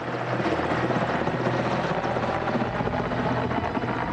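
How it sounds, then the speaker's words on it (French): Constant rotor throb and engine whine of a helicopter, steady and moderately loud with no other sounds. "alors que nous sommes restés avec Albert, nous entendons au loin un hélicoptère"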